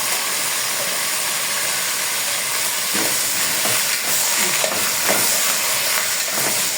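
Meat sizzles and hisses in a hot pot as it browns for a stovetop Egyptian stuffed-vegetable dish, a steady close broadband hiss with a few brief crackles near the end.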